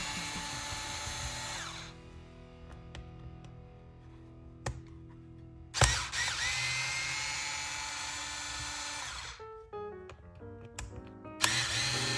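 A power driver backs screws out of the plate on a Traxxas Revo 3.3 RC truck in close, loud whirring bursts. A long run is followed by a pause, then another sustained spin and short stop-start pulses with clicks between them.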